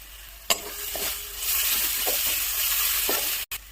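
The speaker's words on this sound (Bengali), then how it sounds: "কড়াইয়ে তেল গরম হয়ে গেছে, ওর মধ্যে দেবো আমি এখানে ধনে গুঁড়ো, দেবো আমি হলুদ গুঁড়ো, দেবো একটু কাশ্মীরি লঙ্কা গুঁড়ো" Ground coriander, turmeric, Kashmiri chilli powder and salt frying in hot oil in a wok, a steady close sizzle with a few spoon taps and stirring scrapes, no voice over it.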